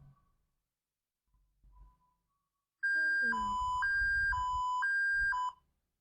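A SCADA software alarm sounds as a loud, repeating two-tone electronic beep alternating high and low for a few seconds, preceded by faint quiet clicks.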